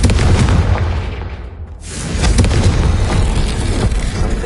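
In the video game Hogwarts Legacy, a Confringo blasting spell explodes with a loud booming burst, followed by a brief dip and then another heavy rumbling blast that lingers with crackling debris.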